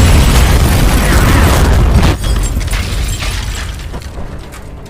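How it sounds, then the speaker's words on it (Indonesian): A house blows up in the film The Mechanic after a music player spews fire: a loud, dense explosion roar that holds, breaks off sharply, then rumbles and fades. "rumah tersebut pun langsung meledak"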